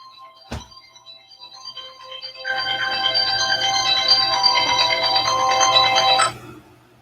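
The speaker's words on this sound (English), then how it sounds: "I hear something on my phone." Phone ringtone during a live stream, a short knock first, then a bright melodic ring that plays steadily for several seconds before cutting off.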